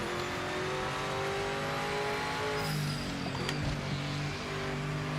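Race cars including Aston Martins lap a track in the Project Motor Racing video game, with a steady engine drone and rising revs that carry throughout, and a sharper high whine cutting in partway through.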